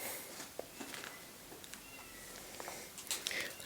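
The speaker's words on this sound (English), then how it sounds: "Apologies for my roommate's cat." A young cat that is still settling into a new home gives a few faint, brief meows in a quiet room, mostly in the final second, with only light background noise around them.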